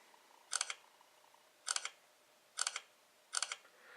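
The camera on an LG G Pad tablet fires four crisp shutter clicks at roughly one-second intervals, each a quick double snap, close and isolated against a near-silent background.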